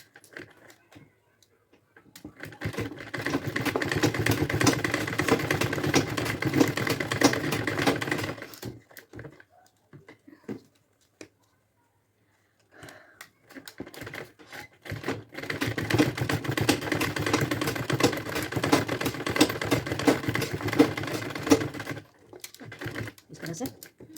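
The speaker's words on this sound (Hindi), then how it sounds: "कर दूँगी सिलाई।" A sewing machine stitches all four sides of a bridal potli bag. It runs in two long, steady bursts separated by a short pause, loud and close, with no talk over it.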